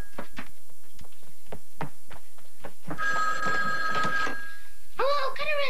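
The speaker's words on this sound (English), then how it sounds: "There's the phone." Telephone bell ringing in a 1980s home, several short bursts in a regular rhythm, close and loud, with people talking over the later rings.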